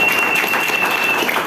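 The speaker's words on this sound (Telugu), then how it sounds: "ఒకసారి గ్రేట్ క్లాప్ తీసుకోవచ్చు" An indoor business-presentation audience claps together in a brief, dense burst of applause, loud and close, lasting only a moment.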